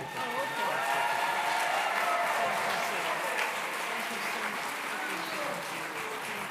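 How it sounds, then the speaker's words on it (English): A large crowd applauds at a family conference event with the Florida governor present, a broad, continuous roar of clapping with scattered cheers and voices mixed in, holding steady before easing slightly. "Let's give him another round of applause."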